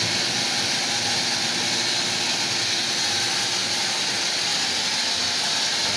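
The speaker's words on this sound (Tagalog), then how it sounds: "maingay yung motor eh" Noisy water pump motor running at a water tank, a loud steady hiss and drone without pause or variation.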